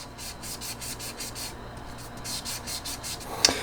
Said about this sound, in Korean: 이 스펀지 사포를 쓰실 때는 항상 면 따라 움직여야 됩니다